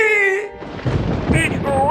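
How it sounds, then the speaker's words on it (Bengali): Thunder from a lightning storm breaks in as a loud, broad rumbling crash right after a brief voice, filling the rest of the moment with dense roar. "ওই দেখ ওই দেখ, বিদ্যুৎ চমকাচ্ছে কেমন"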